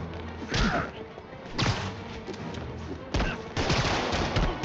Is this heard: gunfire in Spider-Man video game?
yes